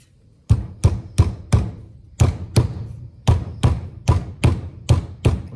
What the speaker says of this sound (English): me using a claw hammer